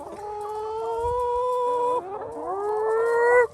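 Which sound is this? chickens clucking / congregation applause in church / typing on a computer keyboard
chickens clucking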